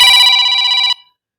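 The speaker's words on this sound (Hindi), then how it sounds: "तो यहाँ पे रिंगटोन का आवाज़ है वो हमने फुल कर दिया है" A mobile phone ringtone plays loud and close at full volume, a bright electronic ringing tone that holds steady for nearly a second and then cuts off abruptly into silence.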